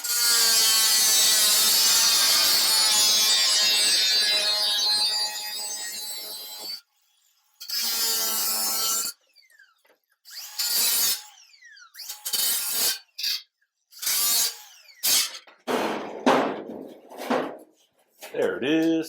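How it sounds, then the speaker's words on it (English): Angle grinder working on a custom COE truck in a dusty shop: a long continuous grinding whine for several seconds, then choppy bursts broken by short silences, with people talking nearby. "Actually, it's going to hit it with the grinder again."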